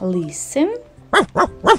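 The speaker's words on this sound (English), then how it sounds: "Who is this? This is a dog." Three short, sharp dog barks in quick succession follow a brief spoken word, loud and close, likely an animal-sound recording played during a Lego Duplo animal game.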